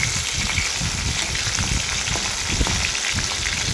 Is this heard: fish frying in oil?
yes